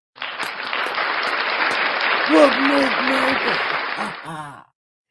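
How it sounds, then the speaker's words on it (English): Applause rises for a self-styled saint, a dense, even wash of clapping that fades out near the end while a voice talks over it. "Clap for me, I clap for you."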